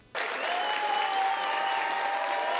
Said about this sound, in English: he was met with a lot of applause at the end